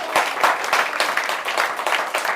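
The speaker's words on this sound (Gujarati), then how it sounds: "તમારા બધા માટે એકવાર જોરદાર તાળીઓ થઈ જાય." A group at a children's storytelling session claps enthusiastically, rapid individual hand claps merging into lively, close applause throughout the short burst.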